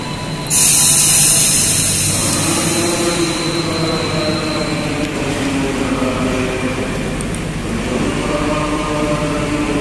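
An airport train idles and hums at a station platform in Jakarta, with a loud hiss of released air at the start fading into a continuous low mechanical drone.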